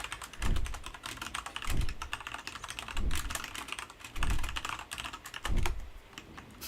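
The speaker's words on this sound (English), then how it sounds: "is my keyboard really loud?" Rapid typing on a computer keyboard, bursts of quick clacking keys with louder thumps from the spacebar or larger keys, close and clear.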